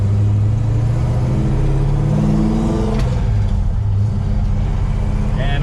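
A 1968 Oldsmobile Cutlass with a manual clutch is driven along a road, its engine droning loud and close, with pitch rising and falling as gears and throttle change.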